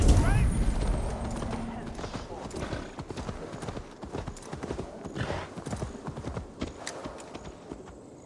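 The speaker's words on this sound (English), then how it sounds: "We have our new horsey." Horse hooves clip-clop at a steady trot in Assassin's Creed Valhalla, a rhythmic clatter throughout with game sound and players chatting over it.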